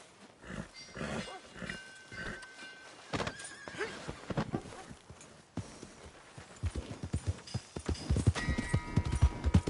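A horse neighs and whinnies repeatedly, with hooves clopping and shuffling nearby; livestock sounds continue throughout.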